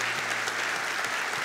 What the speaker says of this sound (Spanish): Vamos a darle un aplauso a esta gente